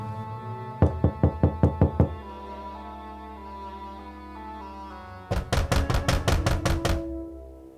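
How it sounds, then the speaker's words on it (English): Knocking on the door of a small detached cottage with boarded-up windows: a rapid series of about eight sharp wooden knocks, a pause with lingering background music, then another fast, louder burst of knocks. "I knocked at the door."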